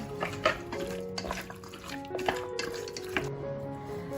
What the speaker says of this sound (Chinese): 搅拌均匀，腌制15分钟。